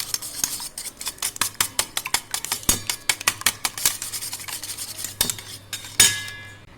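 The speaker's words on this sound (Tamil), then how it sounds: "சுகர் மெல்ட் ஆகிற வரைக்கும் நல்லா பீட் பண்ணிக்கோங்க" Eggs and sugar beaten briskly in a bowl with a metal utensil, a steady run of rapid clinking taps against the bowl, close and alone, ending in a few sharper knocks.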